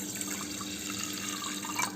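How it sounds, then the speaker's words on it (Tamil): Water poured from a tap onto green gram in a bowl for soaking, a steady close splashing stream that runs continuously for a couple of seconds without any speech. "இதில் இப்போ நம்ம தேவையான அளவு தண்ணி ஊற்றிக்கலாம்."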